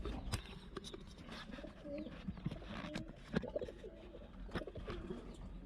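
Breeder pigeons cooing softly in a loft, low burbling calls repeating under scattered knocks and rustles of birds moving about.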